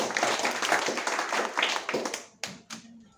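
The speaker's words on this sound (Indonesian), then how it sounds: "Tepuk tangan buat Tuhan Yesus." A church congregation claps in a burst of dense, overlapping applause that thins out, ending with a few last isolated claps.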